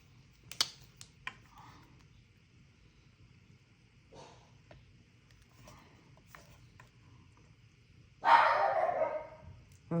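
Puppies give a few scattered yips and barks amid small clicks and handling noises in a quiet room, followed by a louder burst of scuffling near the end.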